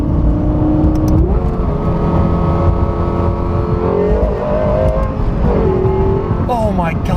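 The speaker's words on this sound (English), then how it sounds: "oh my God, that sound is unbelievable." Loud, sustained engine note from a Lexus LFA supercar, revving repeatedly with rising and falling pitch sweeps near the end, heard close from inside.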